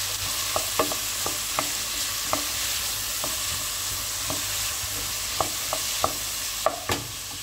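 Whole kernel corn cooks in a pot for corn soup, with a low steady sizzle broken by scattered clinks and scrapes from a spoon stirring, close and moderately loud.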